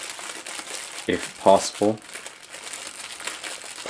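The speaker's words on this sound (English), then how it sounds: "I'm gonna go ahead and take off this plastic from the coiled cable" Thin plastic wrap crinkles and crackles in close bursts as it is peeled off the coiled cable of Audio-Technica ATH-M50 monitor headphones, with a few brief spoken words.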